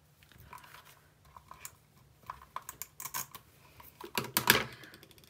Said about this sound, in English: I want to punch 1 of the hearts for the nose.